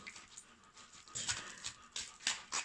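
A dog lies at someone's feet panting rapidly in the heat, close and fairly quiet, with quick rhythmic breaths that grow louder in short bursts toward the end.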